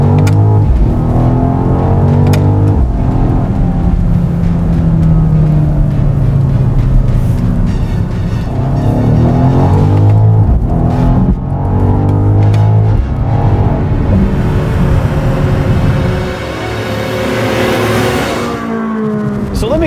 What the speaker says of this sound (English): This 8-speed transmission doesn't shift as fast as I would have expected it to